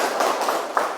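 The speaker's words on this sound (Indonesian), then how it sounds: "tepuk tangan dulu." Children clap their hands in a classroom lesson, a few sharp broadband claps landing roughly every third of a second, close and fairly loud.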